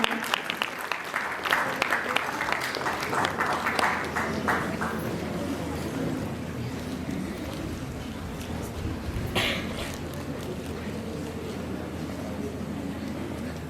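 Audience applause for a prize winner at a philatelic stamp exhibition award ceremony, a steady wash of clapping from a crowd that grows louder at first, then continues at a moderate level with background voices mixed in.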